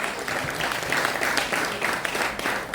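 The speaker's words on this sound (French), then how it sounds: "elle mérite aussi un tonnerre d'applaudissements s'il vous plaît" Steady crowd applause fills a Legion of Honour knighthood ceremony, a dense patter of many hands clapping at even loudness throughout with no voices over it.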